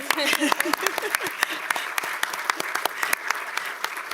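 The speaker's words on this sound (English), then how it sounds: "let's clap for her anyway" Scattered, moderately loud applause from a modest audience at an educational recognition awards ceremony, individual claps distinct and irregular, with some talking audible underneath.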